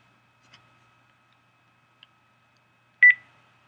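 Telephone keypad touch tones: a faint first press, a tiny blip, then one clear loud dual-tone beep near the end, isolated against near silence.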